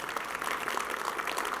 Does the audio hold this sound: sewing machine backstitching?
no